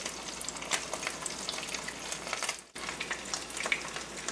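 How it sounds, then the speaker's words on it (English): Low carb bacon donut batter dropped into hot oil, giving a steady bubbling sizzle with sharp crackles and spoon clinks, close and clear, briefly cut off midway before the frying continues. "My oil is heated up, so I'm going to take the batter and do a test scoop in there"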